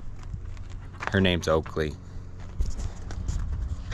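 A large horse's hooves clop on the ground near a garage, with a few uneven thuds in the background while someone speaks briefly over them.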